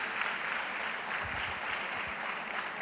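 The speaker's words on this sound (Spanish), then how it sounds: "dale un fuerte aplauso a Jesús." A church congregation at a Spanish-language worship service applauds, a dense and continuous wash of clapping that holds steady throughout at a moderate level, with no speech over it.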